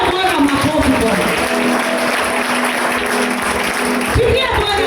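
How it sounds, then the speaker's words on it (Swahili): Continuous loud clapping from a worshipping congregation fills the space as a thick, steady wash of hand claps, with a voice talking over the top throughout. "Pigia Bwana makofi. Hivyo tu. Hivyo tu."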